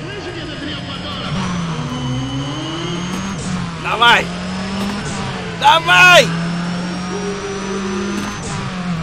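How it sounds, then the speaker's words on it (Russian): In the racing video game Need for Speed ProStreet, a race car engine roars and revs, its pitch climbing and shifting through gears, while an excited voice shouts encouragement over bursts of louder engine noise. "вы слышите этот рёв мотора?"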